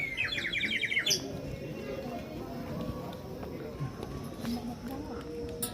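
A mouth-blown bird call whistle imitates a bird with a quick burst of high, trilling chirps for about a second, then fades into low background noise, at Penang Hill, Malaysia.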